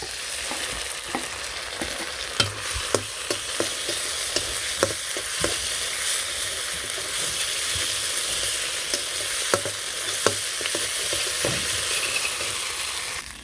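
Onions with ginger-garlic paste sizzle in a pan in a Bangladeshi village kitchen, a steady frying hiss broken by sharp scrapes and clicks as a spoon stirs.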